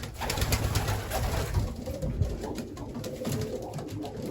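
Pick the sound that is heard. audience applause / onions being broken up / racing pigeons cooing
racing pigeons cooing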